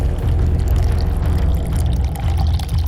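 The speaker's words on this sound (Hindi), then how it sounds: "उसी बोतल के अंदर ये शैशे पोर कीजिए।" Floor cleaner from a 25 gram sachet pours into a 500 ml plastic bottle, a loud, close, continuous rushing pour lasting a few seconds with no talking.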